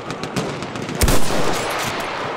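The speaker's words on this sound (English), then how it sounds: "There! Enemy machine gun!" Machine gun fire in the Battlefield 1 conquest battlefield, sustained rapid bursts with a heavier thump midway, loud and continuous across the scene.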